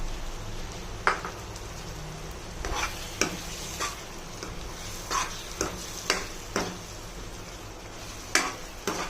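Fried eggs are stirred in hot oil in a pan for egg curry, a soft steady sizzle broken by repeated sharp scraping and clinking strokes of a spoon against the pan.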